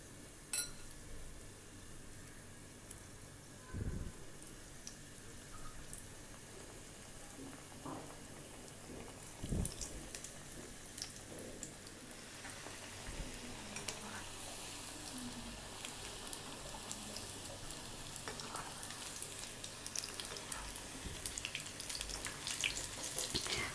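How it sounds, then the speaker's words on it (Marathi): Drumstick and dried mini prawn fritters (bhajiya) fry in hot oil, giving a steady close hiss and sizzle with a few soft clicks and bumps. No one speaks. "आता तेल तापलेलं आहे आपण ह्याची भजी टाकणार आहोत"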